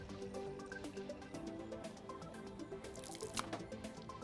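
Water drains and drips during a whole house water filter backwash, a quiet, busy patter of droplets and trickling over a low watery background with no talk.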